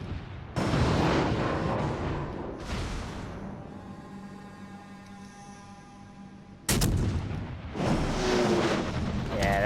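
Heavy naval gun salvos in World of Warships boom out in loud bursts, two shots at a time, separated by a lower mechanical rumble and whine between volleys.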